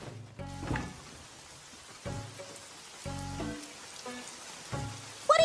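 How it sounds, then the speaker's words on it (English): Rain patters steadily in an animated scene, heard under intermittent low musical notes and thuds, ending with a brief bright tone. "Hey, it's raining out here."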